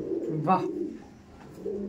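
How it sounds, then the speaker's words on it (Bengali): Pigeons at a pigeon fancier's home loft give soft, low cooing with a brief louder burst near the start, close by against a steady background murmur. "এবার কিছু দীপদার বাড়িতে যে পায়রাগুলো আছে সেগুলো দেখায়।"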